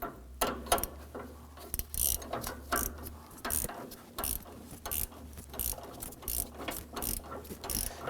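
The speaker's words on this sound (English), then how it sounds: "We're going to use a 8mm socket on the top on our ratchet, and we use an 18mm wrench, and we're going to simply tighten the nuts down." A ratchet with an 8mm socket tightens the front sway bar link nuts on a 2015-2020 Ford F-150, giving quick, close clicking runs in repeated bursts with short gaps between them.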